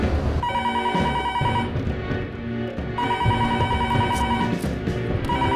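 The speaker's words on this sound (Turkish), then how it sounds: "Hadi ya, aç şu telefonu." An old-style telephone bell rings loudly in two long ringing bursts separated by a short pause, with a low rumbling background underneath.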